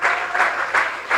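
A church congregation claps steadily in rhythmic bursts of applause that swell and fade every few tenths of a second, loud and close, with no voices over the clapping.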